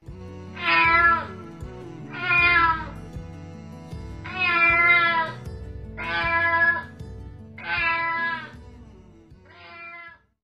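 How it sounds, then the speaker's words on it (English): A cat meows six times in a steady, evenly spaced series, each call loud, clear and drawn out, with no talking over it. "C for cat. C for cat."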